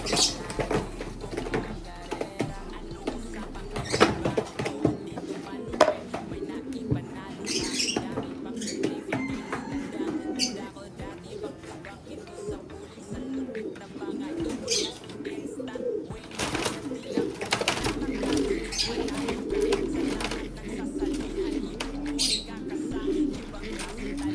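A racing pigeon coos in soft, repeated throaty rolls close by, over a busy background of rustling and other bird sounds.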